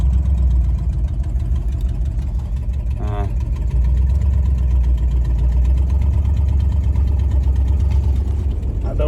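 The engine of a 1979 Cadillac, run after sitting 27 years, idles loudly and steadily close by, a deep throbbing rumble with faint talk underneath.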